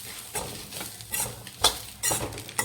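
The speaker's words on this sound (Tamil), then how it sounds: "இஞ்சி பூண்டு போட்டு இதையும் வணக்கிக்கலாம்" Ginger and garlic with onion for chicken biryani are sautéed in a pan, heard as a soft sizzle under several close scraping stirs of a spoon against the metal.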